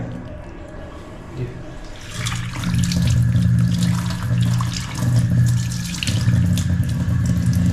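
Running tap water pours steadily as cleaned fish are rinsed in a sink, getting louder and fuller after a couple of seconds and continuing alone in the foreground.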